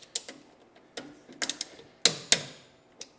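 Wrench clicks and metallic ratcheting while torquing bolts on Millway camber plates on a BMW F80 M3, a series of sharp separate clicks, a few louder ones near the end, close by with no talking.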